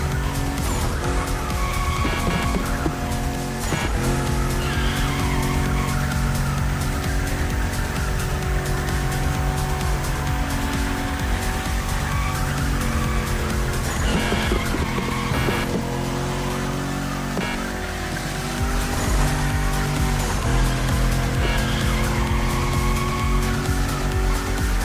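Car drifting in The Crew Motorfest, engine revving hard while the tires squeal almost continuously, loud and close, with brief dips as the slide changes direction.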